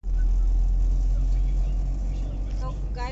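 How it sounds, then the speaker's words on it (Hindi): Heard from inside, a car drives at speed with a loud, steady low engine and road rumble throughout, and a voice speaks briefly near the end. "तो गाइज हम चला रहे हैं गाड़ी, और ये इतनी स्पीड में चल रही है"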